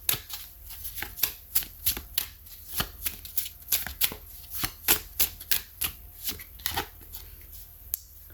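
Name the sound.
shuffling tarot cards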